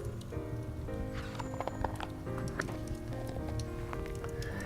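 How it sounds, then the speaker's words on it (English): A horse gallops across a desert sand plain in a narrated story, heard as rapid rhythmic clip-clop hoofbeats with brief whinnies, steady and fairly close over a droning musical bed. "Jamal gallops after her"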